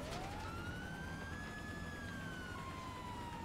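A police car siren wails in the virtual-reality game Grand Theft Auto, a steady rising and falling tone that sounds continuously over a dense background of traffic and engine noise, with no voices.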